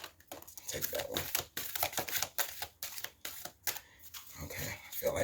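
A deck of playing cards is shuffled close up, with rapid riffling bursts and crisp card flutters in uneven spurts and short pauses between them.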